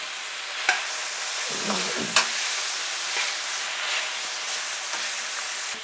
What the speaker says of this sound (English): let's get this mixed in nice and good